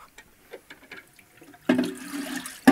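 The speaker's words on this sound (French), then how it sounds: "Vider et rincer le réservoir." Water is rinsed through the tank of an automatic coffee machine during descaling: a quiet start with faint knocks, then a sudden rush of splashing water that surges again at the end.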